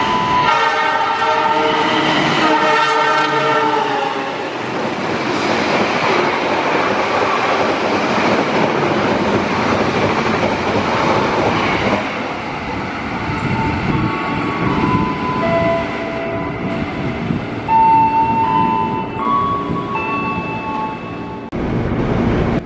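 Pandalungan passenger train with an added baggage car running past at speed, a loud sustained roar with a horn blast near the start and wheel clatter on the rails as it goes by.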